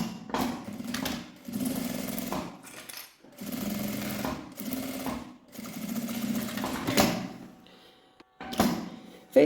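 Sewing machine stitching a seam across a fabric accordion wallet, several close bursts of rapid mechanical chattering separated by short pauses, with a quieter stretch and a thump near the end.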